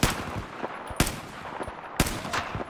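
Three sharp, loud gunshots ring out about a second apart with echoing tails and lighter clatter between, from Battlefield 4 played on an Xbox Series console.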